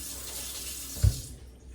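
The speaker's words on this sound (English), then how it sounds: "Let me rinse my fork." Water from a kitchen tap runs steadily into a sink while a fork is rinsed, with a soft clink of metal partway through, quiet and close.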